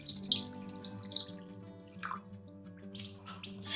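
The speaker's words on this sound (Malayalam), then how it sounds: "ദാ ഒരു കപ്പ് വെള്ളവും കൂടി ചേർത്ത് കൊടുക്കുവാണ്" Plain water poured from a cup into vegetable papad batter in a home kitchen, a steady close splashing trickle with a brief heavier gurgle partway through, no voices.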